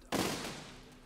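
A single cannon blast from a building and engineering video game, one loud, sharp boom followed by a long fading rumble, heard alone with no talk.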